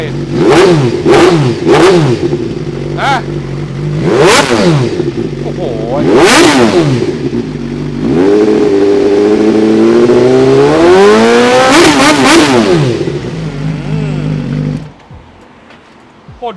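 A Suzuki GSX-R1000 L7 sport bike is revved close by: several sharp throttle blips, then a long rising rev that drops back to a quieter idle, while a man exclaims over it.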